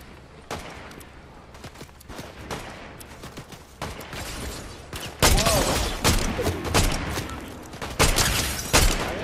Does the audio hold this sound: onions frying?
no